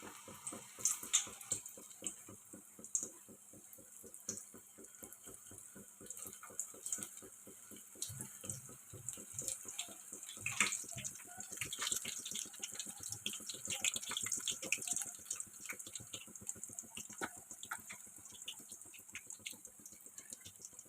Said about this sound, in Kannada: ಬೆಂಡೆಕಾಯಿ ಚೆನ್ನಾಗಿ ಫ್ರೈ ಆಗಬೇಕು